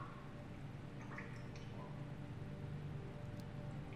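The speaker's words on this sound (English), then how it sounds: "You hear that sewer drippage in the back?" Sewer water drips steadily in the dim, echoing background of a game scene set in The Wolf Among Us, faint droplets pattering over a constant low ambient hum.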